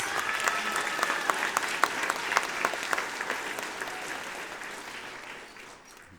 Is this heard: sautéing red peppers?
no